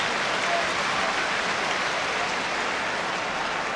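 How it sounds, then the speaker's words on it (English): A football crowd applauds a goalkeeper's save during a Nottingham Forest v CSKA Sofia match, a broad, steady wash of distant clapping from the stands that holds even throughout with no clear voices. "The applause from the crowd was for Shilton's save."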